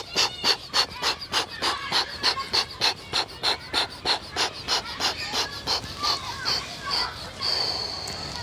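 Someone does a Systema explosive breathing exercise, a long run of sharp rhythmic exhalations roughly every third of a second, close and loud, ending in a longer steady breath.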